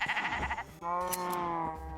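Rainbow-coloured sheep in the Minecraft video game bleat in a few loud, near calls, one after another with short gaps.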